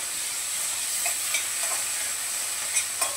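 Onion and tomato sauté in a pan for a capsicum and cowpea curry, a continuous bright sizzle with occasional stirring scrapes, close and steady, no talking.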